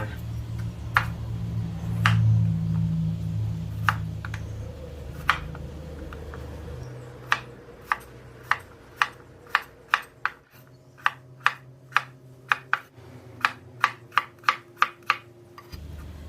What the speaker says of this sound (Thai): เสร็จแล้วเราก็หั่นเป็นชิ้นสี่เหลี่ยมเต๋าขนาด1เซนติเมตรค่ะ